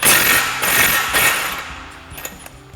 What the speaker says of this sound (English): For this, you will need a 21 millimeter socket on your impact, and you can just pop that off.